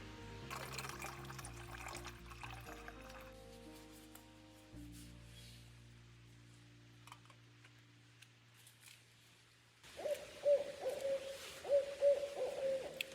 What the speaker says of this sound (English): Did you hear the owl?